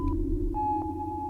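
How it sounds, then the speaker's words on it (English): Synthesizer run through a Microcosm effects pedal in glitch mode with a big reverb swell patch: sustained tones with a steady low hum and brief stuttering blips, loud and close. "Yeah, this is a big reverb swell patch. This is one of the glitch modes."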